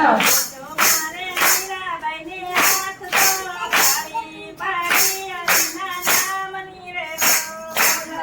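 A satsang group claps in steady rhythmic unison, sharp hand claps marking the beat about once per second while voices sing a devotional Mira Bai song over them.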